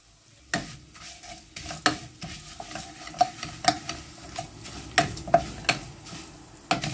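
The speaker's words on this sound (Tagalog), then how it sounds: "Ipiprito siya ng konti." Small noodles frying in a pan, with steady soft sizzling, repeated scraping stir strokes and clinks of a utensil against the pan, close and moderately loud, with no talking.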